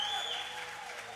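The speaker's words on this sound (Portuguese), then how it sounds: "Uma salva de palmas aí para nossa técnica" Audience applause for a technician at a talk, a steady wash of clapping at a moderate level with a faint tone running over it, continuing without pause for about a second.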